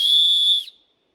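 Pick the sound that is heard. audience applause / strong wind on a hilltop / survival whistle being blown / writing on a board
survival whistle being blown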